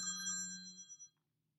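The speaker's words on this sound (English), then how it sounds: "I apologize, my phone just rang." A phone rings with a bright, bell-like electronic tone that holds steady for about a second, then fades and cuts off, heard alone and fairly close.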